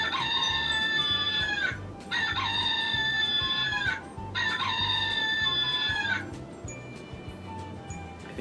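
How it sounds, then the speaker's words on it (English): A kung fu flying chicken toy gives loud electronic crowing and clucking in three long repeated bursts, each about two seconds, over constant whirring noise. "a kung fu flying chicken"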